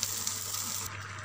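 Onions frying until crisp and brown in hot oil, a steady bright sizzle that holds evenly, close and alone, then eases slightly near the end.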